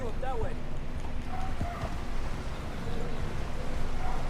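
Horse hooves clip-clopping in the Red Dead Redemption 2 video game, a steady rhythm of close hoofbeats under ongoing talk and faint ambient noise.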